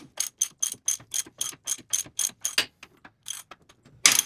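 A hand ratchet tightens a fitting on a leaking steering cylinder of a John Deere 322 skid steer, clicking in a fast, steady run of about a dozen crisp close strokes, with a short pause before a final harsher burst.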